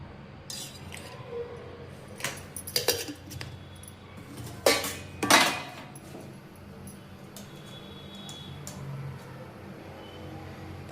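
Metal pots and utensils clink around a hot kadhai as oil heats in a home kitchen, with a few sharp clatters bunched mid-clip over a low, quiet background.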